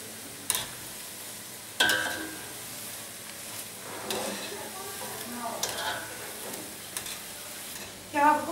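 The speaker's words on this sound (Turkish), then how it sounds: "Kısık ateşte bu şekilde kızarttığı." Lokma dough, a yeasted batter of flour, dry yeast and sugar, fries in oil over low heat with a steady soft sizzle. Occasional stirring and light scraping clatters sit above it, with no talking.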